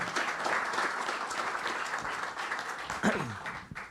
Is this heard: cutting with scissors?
no